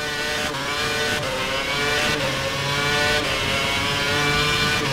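Formula One car in F1 2011 at Monte Carlo, a high, continuous engine scream revving hard in fourth gear as the rear wheels spin, loud and steady with slight pitch shifts.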